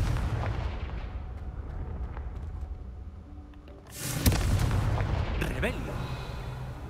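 Confringo spell blast in the Hogwarts Legacy video game, a sudden booming explosive burst midway through, loud and close, with game noise and a voice speaking around it.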